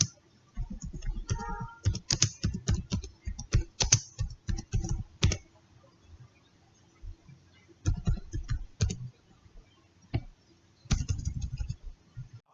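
Someone types a name on a computer keyboard in quick bursts of close, crisp key clicks, broken by short pauses, with no talking.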